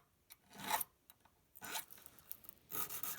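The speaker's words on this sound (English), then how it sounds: "what I use this file for is just to nip off the little burr that can form at the edge of the fret wire" Triangle file rasping along the edge of guitar fret wire after leveling and recrowning, three short, close, quiet scraping strokes with gaps between them.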